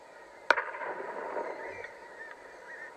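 A single sharp, distant shotgun report from neighbouring duck hunters, one brief crack standing out over a quiet outdoor background with faint bird calls afterward.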